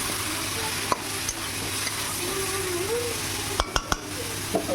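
A spatula stirs boiled ash gourd with tomato in a pan: a steady soft sizzle runs throughout, with a few sharp clicks and scrapes of utensil on metal, clustered near the end.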